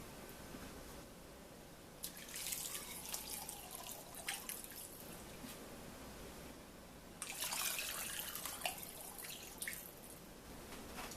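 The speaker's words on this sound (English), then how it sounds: "I make sure to put enough to completely fill the pot" Water poured into a stock pot for chicken bone broth, two separate bursts of splashing pouring that each run a few seconds over a quiet background.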